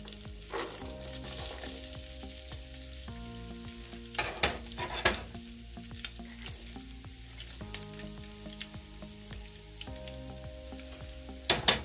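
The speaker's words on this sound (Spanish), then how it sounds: "Yo aquí a este punto ya le voy a agregar la zanahoria y el apio." Meat frying in a pan with carrot and celery added, a steady close sizzle broken by repeated scraping stir strokes and occasional utensil knocks against the pan, with no talking.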